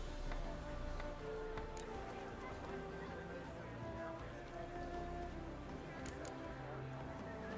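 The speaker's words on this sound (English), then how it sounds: "My coin's on the black stallion, Nemrod, purest Nilfgaardian stock." Hooves of horses clip-clop in The Witcher 3, a faint, irregular run of clopping steps under a low game ambience, with speech faintly present.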